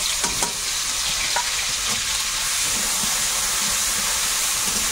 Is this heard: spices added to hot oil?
yes